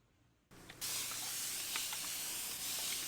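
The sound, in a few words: spray bottle misting water onto microgreen seeds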